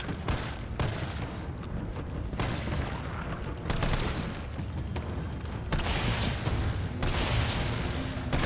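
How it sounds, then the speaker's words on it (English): Sustained assault rifle fire in Resident Evil 3, loud close bursts of rapid shots running almost nonstop, with brief pauses between volleys and no talking. "then when things got a little bit harsh, then I switched into my assault rifle"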